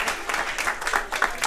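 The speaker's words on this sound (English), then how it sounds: "So, big round of applause for all of you." Audience applause at a conference talk, a dense wash of many hands clapping that carries steadily through the short stretch, moderately loud and without voices on top.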